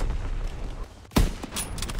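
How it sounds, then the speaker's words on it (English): Incoming enemy artillery in Call of Duty WWII, a single heavy blast bursting out after a brief lull, followed by scattered smaller impacts and debris. "Incoming enemy artillery."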